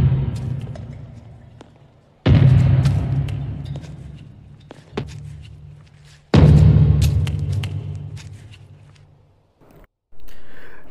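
Two heavy, booming blows from fists pounding a metal wall ring out with long rumbling decays, separated by a few smaller knocks and thuds. The impacts are loud and close, from the 1989 film Kickboxer.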